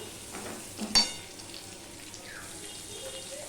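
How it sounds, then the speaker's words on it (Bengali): Onion and potato pieces sizzle in a pan with its lid on, a soft, steady frying hiss broken by one sharp clatter of metal near the start. "এবার আলুটাও আমি ভালো করে ভেজে নেব ঢাকা দিয়ে দিয়েই ভাজবো"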